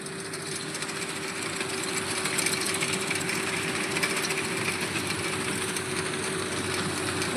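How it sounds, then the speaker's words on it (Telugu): A rice harvesting machine cuts a ripe paddy field, giving a steady, continuous engine drone with a constant hum and broadband mechanical rattle, moderately loud and unbroken throughout, with no talk. "ఇదిగోండి మిషన్ పెట్టి కోతకు ఇస్తున్నారు."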